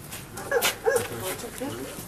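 A dog gives a couple of short yipping barks and whimpers in the middle of a tense scene during a police operation, heard amid people talking.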